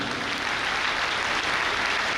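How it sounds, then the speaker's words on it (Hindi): A church congregation at a Hindi-language sermon claps together in a brief, even burst that holds steady at moderate loudness and then cuts off abruptly. "एक बार फिर से पवित्र आत्मा के लिए ताली बजाएं।"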